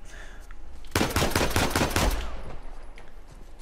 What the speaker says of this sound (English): everywhere you turn, you get shot at